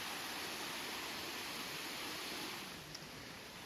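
The Narinets waterfall near Yaremche in the Carpathians pours in a steady, dense rush of broadband water noise that stays loud and unbroken throughout, with no voices.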